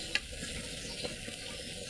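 Pointed gourd leaf fritters fry in hot oil with a continuous close sizzle, broken by a couple of faint clicks from a utensil stirring and lifting them.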